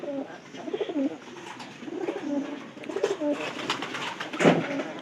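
Domestic pigeons in a coop cooing in soft repeated throaty rolls, several birds overlapping at close range with occasional wing rustles and a louder flutter near the end, no talk.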